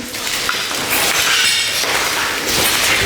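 Shards of broken glass from windows blown out by shelling at a school: a continuous loud crunching, tinkling clatter of glass fragments, close and dense, with no voices.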